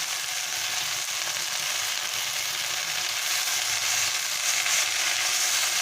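Steady, loud sizzling of jute leaves frying in hot oil with fried onion and garlic, a dense crackling hiss that continues without pause and grows slightly stronger near the end.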